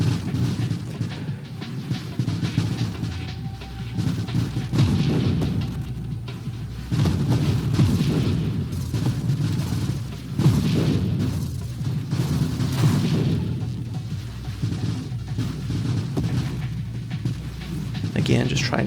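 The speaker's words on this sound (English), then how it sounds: "just trying to put out a lot of missiles" Missiles fire and explode in the space shooter game Nova Drift, a dense run of overlapping low booms and bursts that keep going with barely a pause.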